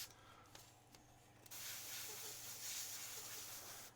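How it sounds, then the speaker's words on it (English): An Iwata CMC Plus Micron airbrush with a 0.23mm needle sprays white paint, giving a steady close hiss that starts after a few short bursts and holds until near the end. "The airbrush that I'm currently using is the Iwata CMC Plus Micron."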